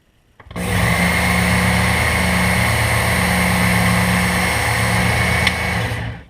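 Work Sharp Ken Onion Edition knife and tool sharpener running steadily as a knife is sharpened, a loud continuous motor whine with a gritty belt hiss that holds for about five seconds before cutting off.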